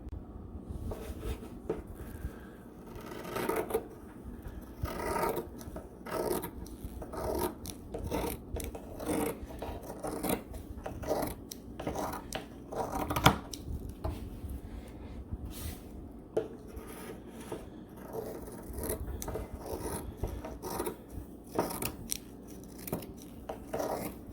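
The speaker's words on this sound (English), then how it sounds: "I'll cut through it, and I'll be cutting through multiple layers here all in one shot" Scissors snip repeatedly through several stacked layers of folded underquilt baffle fabric, a close, steady run of rasping cuts and rustles with no talking.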